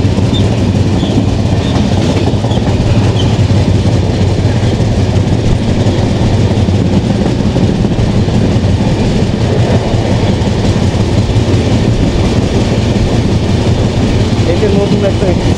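A passenger train runs on the Dhaka to Faridpur line via the Padma Bridge, its steady rolling rumble and clickety-clack continuous and loud from inside the carriage, with occasional voices under the noise.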